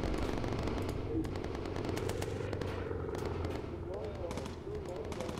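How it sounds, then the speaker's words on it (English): Machine guns in the Bomber Crew video game rattle out rapid, sustained bursts of fire over a droning background of game engines. "Nice shooting, Stratton"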